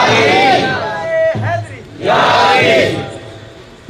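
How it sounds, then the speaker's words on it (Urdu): A religious gathering's crowd bellows the Naara-e-Haidari slogan in two loud massed shouts, a leader's call followed by the crowd's roaring response, with voices echoing in a large hall. "نعرے حیدری کوئی ایک لگا دے"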